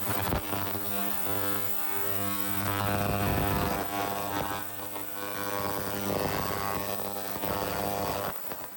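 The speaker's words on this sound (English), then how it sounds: "for those who haven't seen an ultrasonic cleaner work before" A steady, loud electrical hum with strong buzzing harmonics drones continuously from an ultrasonic cleaner running without pause, no voices.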